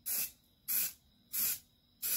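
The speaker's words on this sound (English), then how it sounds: "I'm going to use red spray paint for these 15s right here." Aerosol can of red spray paint applied in light passes over old 15 lb dumbbells during restoration, four even, rhythmic hissing bursts with short quiet gaps between, close and clear.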